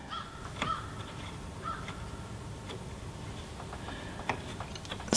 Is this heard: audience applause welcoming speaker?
no